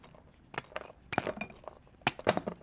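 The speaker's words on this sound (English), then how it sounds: "And now I'm going to break this apart." A block of gym chalk snapped apart by hand, producing a few sharp glassy clinks and cracks in short bursts separated by near silence, close and fairly quiet.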